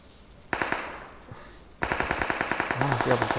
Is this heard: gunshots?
yes